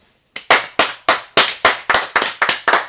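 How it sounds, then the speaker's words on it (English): A few people at the end of a recorded talk clap in sharp, evenly spaced claps, about ten over a couple of seconds. The claps are close and loud, starting after a brief silence. "Applause for ourselves."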